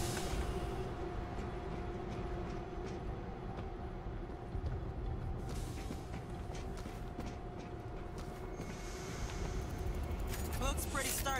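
A train in the video game World War Z rumbles and hums steadily as it starts up, fairly quiet and constant, with people talking over it.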